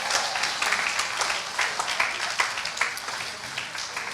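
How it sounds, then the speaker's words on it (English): Audience clapping for bus drivers at a Marion County Veterans Day ceremony, a moderate, steady patter of hands from a crowd, fairly distant and lasting the full few seconds with no talk over it. "Let's give our bus drivers a round of applause."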